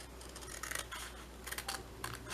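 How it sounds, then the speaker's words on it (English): Scissors snip small sections off a craft piece, giving a few soft, close cutting rasps in short bursts against a low steady hum. "So I'm going to cut little sections off like this."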